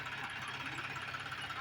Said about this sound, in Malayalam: അവിടുത്തെ കച്ചറ സാധനങ്ങളൊക്കെ പെറുക്കി എടുത്തിട്ട് പോകുന്ന ഒരു ട്രാക്ടർ.